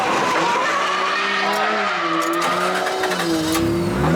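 A 500 HP 2JZ-swapped BMW E36 drifting, with a loud sustained tire squeal that wavers in pitch over a steady engine drone, continuous and close throughout.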